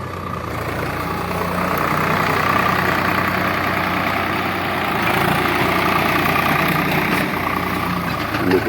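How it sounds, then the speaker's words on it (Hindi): A tractor ploughing a dusty field, its engine droning steadily and close throughout with a low, continuous rumble and no talk. "अब ट्रैक्टर है तो अगर हल जुताई कर रहा है तो करेगा ही करेगा"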